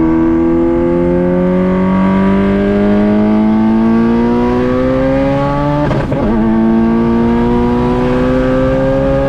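A Subaru STI's engine pulls hard under acceleration, its loud, steady tone climbing smoothly in pitch, briefly dropping at a gear change around six seconds, then rising again.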